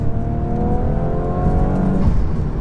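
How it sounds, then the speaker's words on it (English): Stage 1 Audi S4 accelerating hard, its turbo and exhaust rising in pitch for about two seconds before a sharp blow-off release at the end, loud and close, with no talking. "Lovely blow-off sound from the turbo there as well."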